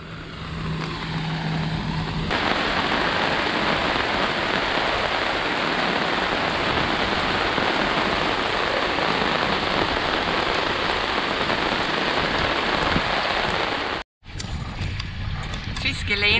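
Heavy rain falls on a sailboat riding at anchor in Greece, a dense, steady hiss that holds for about fourteen seconds before it cuts off abruptly.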